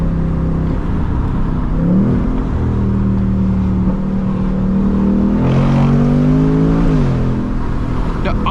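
A 2024 Ford Mustang GT engine drones loud and close from inside the car, rising in pitch and dropping sharply at upshifts, with several rev climbs and shifts across the stretch.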